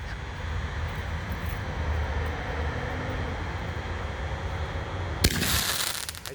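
An Ammo canister firework shell by Miracle, heard as a rushing rumble after launch and then a sharp crackling burst near the end, with a faint background hum.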